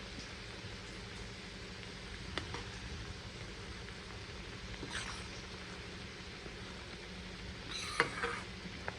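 Amla frying in oil in a pan gives a faint, steady sizzle and crackle throughout, with a couple of brief clinks of a utensil near the end.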